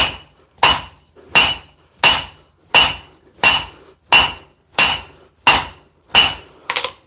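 Hammer blows forging steel into a dagger ring out as ten evenly spaced, bright metallic clinks, each with a short ringing decay, steady and close with no talk.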